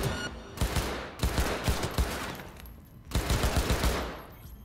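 Rapid bursts of gunfire from a sneak-attack headshot in Cyberpunk 2077, loud and close, several volleys in quick succession separated by brief pauses.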